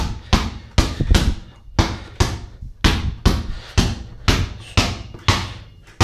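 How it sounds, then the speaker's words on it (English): Spalding NBA basketball dribbled one-handed indoors, a steady run of about fourteen sharp, loud bounces at an even rhythm, each with a short ringing decay, with no talking. "I can only dribble with this one hand."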